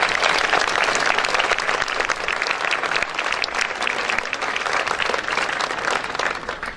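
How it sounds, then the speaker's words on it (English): Sustained applause from a large audience at a school graduation ceremony after a musical performance, even and steady clapping filling the hall for nearly seven seconds with no talk. "Can we give them another round of applause"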